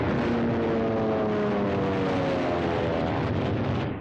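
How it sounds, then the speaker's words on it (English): A World War II warplane on a bombing run over Tarawa roars with a loud, close, droning engine whose pitch shifts steadily throughout. "One of our planes scores a direct hit."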